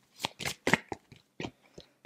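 A deck of tarot cards is shuffled by hand in a quiet room: a quick series of soft, papery riffles and slaps in uneven bursts, close by, with no talking.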